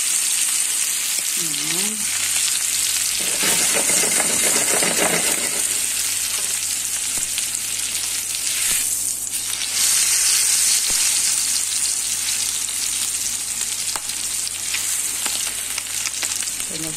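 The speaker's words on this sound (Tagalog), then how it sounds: "Grill na natin." Beef steak sizzles steadily in a hot pan or grill, a continuous close frying hiss with occasional stirring, while a voice speaks briefly over it.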